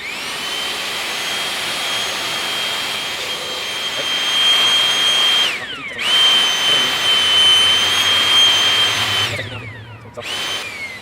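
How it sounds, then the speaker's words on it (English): A loud, steady vacuum whine with a high motor tone runs throughout as a vacuum cleans Kubota BX mower filters, briefly cutting out twice before starting up again. "That's why I use a vacuum."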